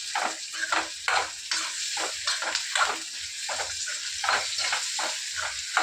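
Ingredients for a dosa side dish sauté in a hot pan, a soft continuous sizzle broken by repeated scraping and stirring strokes of a spoon, close and fairly quiet.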